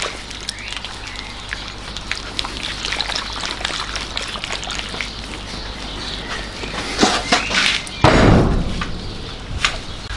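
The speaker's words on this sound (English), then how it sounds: "Giving the battery a good shake" Liquid sloshing and gurgling inside a car battery filled with Epsom salt solution as it is shaken, with irregular splashes building to a louder burst near the end, no voices.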